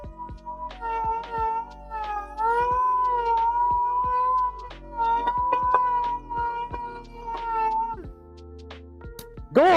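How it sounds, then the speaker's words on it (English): A dual-action sander works on a Jeep grille during rust repair, giving off a loud, close, wavering high squeal like a yowling cat, rising and falling over several seconds between brief pauses. "DA sounds like a cat in heat."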